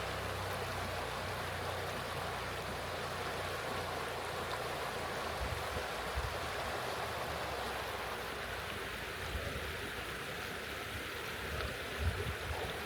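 Clear stream water flowing at Wildhorse Falls in Idaho, a steady broadband rush that holds evenly throughout, fairly close and alone with no voices.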